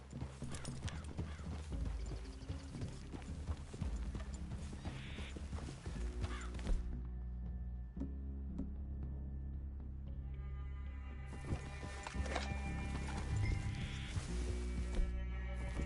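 Horses in the video game Red Dead Redemption 2 plod along at a walk, hooves clip-clopping in a steady uneven rhythm with an occasional whinny, set against a low ambient background.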